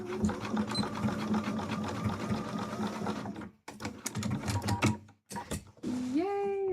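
A sewing machine stitches fabric for a Twilight Princess Link cosplay, running in steady, close whirring bursts broken by two brief pauses, with a rising mechanical whine near the end.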